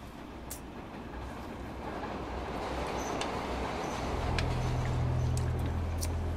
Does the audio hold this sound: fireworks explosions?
no